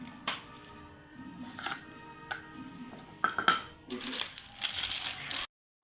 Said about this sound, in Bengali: দেখো হ্যাপি হ্যাপি বিস্কুট ভালো করে গুঁড়ো করে নিচ্ছি সিলে